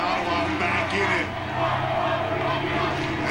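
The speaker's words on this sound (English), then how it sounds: "This crowd here in Ottawa back in it." A crowd at a university football game in Ottawa roars steadily, a thick sustained wall of cheering with a commentator's voice talking over it.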